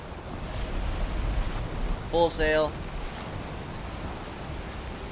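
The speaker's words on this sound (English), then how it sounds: "My gosh, these waves are insane." Ocean waves rush steadily while a ship sails through rain in the video game Valheim, a constant wash of surf and wind noise, with someone briefly speaking over it.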